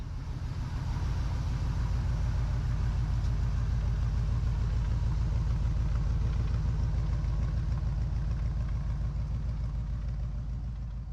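A 1972 Chevy LUV pickup truck sits idling, a steady low rumbling engine with an even, throbbing pulse, close and continuous for over ten seconds with no talk.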